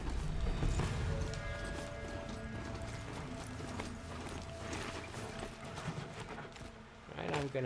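Horse hooves clip-clopping at a steady gallop in the open-world video game Horizon Zero Dawn, continuous and fairly close, layered over faint mechanical gear and ratchet noises.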